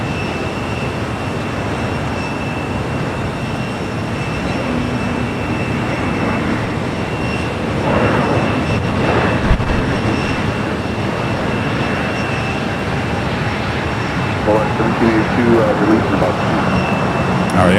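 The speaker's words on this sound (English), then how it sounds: "British Airways now rolling down 25 right as the Lufthansa on the high speed" A British Airways airliner rolls for takeoff on runway 25 right at LAX, a steady distant engine roar that swells slightly midway, heard under a background of radio chatter.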